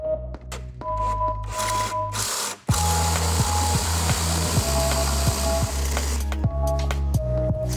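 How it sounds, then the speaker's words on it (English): A power drill bores a handle hole in a workshop with a steady mechanical whir, briefly cutting out and restarting, accompanied by rhythmic clicking and ratcheting, close and loud throughout. "He's gonna drill the hole because he's a lot more skilled"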